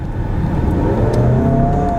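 A 2.0L Volkswagen Atlas engine pulls hard under acceleration, a steady loud mid-range drone with rising tonal harmonics as the revs climb, heard close from inside the cabin with no talking.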